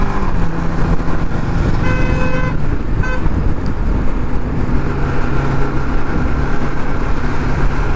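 A Bajaj Pulsar NS200 motorcycle under restoration revs loudly and close by, its engine drone steady and dense, with a brief horn-like tonal burst partway through.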